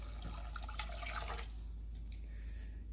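Tap water runs and splashes while a blender jar is rinsed out in a kitchen during barbecue mop preparation, a close hissing wash that fades toward a quieter trickle over a low steady hum.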